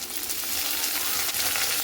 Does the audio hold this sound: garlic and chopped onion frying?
yes